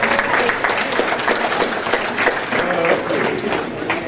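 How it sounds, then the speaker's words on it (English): A dense, steady round of audience applause at a high school Hall of Fame ceremony, loud and continuous from start to finish with no break. "Just take a look at her and give her a round of applause."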